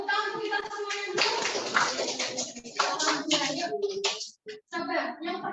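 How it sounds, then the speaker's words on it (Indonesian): A class of children claps together for everyone in an Indonesian classroom, a dense ragged burst of hand claps mixed with chatter and voices, fading briefly near the end before noise resumes. "Oke, tepuk tangan untuk kita semuanya dulu."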